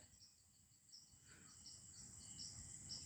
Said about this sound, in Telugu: మిడతలో ఎక్కువ సౌండ్ వినిపిస్తుందండి